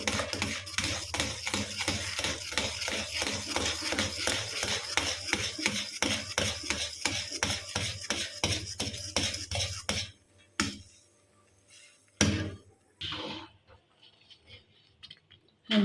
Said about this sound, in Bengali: এবার আমি আস্তে আস্তে চাল গুঁড়িটা দিয়ে আস্তে আস্তে এটার সাথে মেশাতে